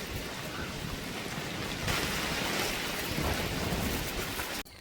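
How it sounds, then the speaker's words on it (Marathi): Heavy rain drums down on a farm field in the Konkan, a loud, steady roaring wash with gusts of wind and low rumbling, and no voices, until it cuts off abruptly at the end. "जोरात येत आहे पाऊस."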